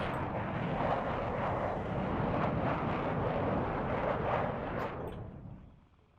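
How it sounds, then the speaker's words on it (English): A Su-27 jet attacking in the video game WARNO, a loud sustained roar with rumbling blasts layered over it, holding steady before fading out near the end. "The Su-27 coming in, making short work of that"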